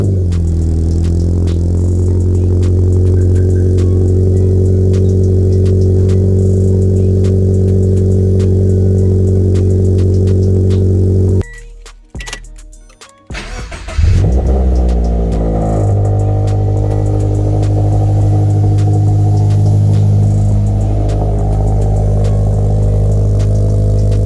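A Toyota 86 fitted with a Manzo front pipe exhaust idles in a loud, steady, close drone, cuts out briefly for a moment of near silence, then restarts and settles back into its even hum.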